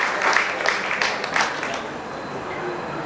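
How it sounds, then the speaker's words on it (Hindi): Applause welcoming a guest at a BARC Tarapur gathering, a broad even wash of many hands clapping from an audience, steady and moderately loud, fading slightly toward the end. "मैं चाहूंगा कि उनका भी स्वागत हम जोरदार तालियों से करें"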